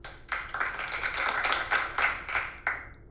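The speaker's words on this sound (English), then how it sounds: "clapping crowd, what's this sound like?" Crowd clapping sound effect from an iMovie library, a burst of close, crisp handclaps with irregular accents rising and falling over a few seconds, no voices.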